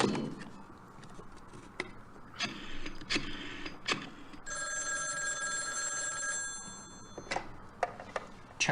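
A telephone rings in an adventure video game: a sustained electronic bell tone lasting a couple of seconds, set among scattered clicks and short mechanical knocks in a quiet background.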